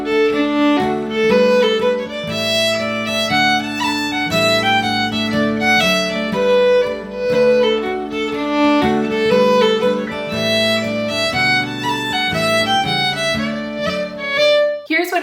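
A lively traditional fiddle tune, The Boys of Blue Hill, played solo, quick bowed notes in a bouncing dance rhythm, close and steady for the whole stretch.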